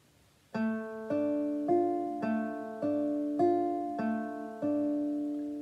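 A clean guitar plays the first bar of "Turkish Dance" as a group of eight notes, eight distinct plucked notes in an even rhythm, each ringing clearly, close and unaccompanied.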